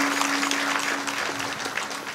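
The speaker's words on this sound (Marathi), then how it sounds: "इथे तुमच्या टाळ्या पडायला पाहिजे होत्या." Audience at a Marathi kirtan clapping together in a steady, dense wash of applause with no talk, heard at moderate distance.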